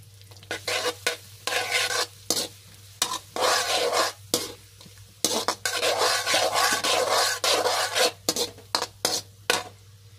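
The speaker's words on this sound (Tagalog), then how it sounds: "So lutuin lang natin saglit yung bawang." Chopped garlic frying on low heat in a pan while cooking buffalo chicken wings, with a steady close sizzle broken by repeated scraping bursts of stirring and no talk.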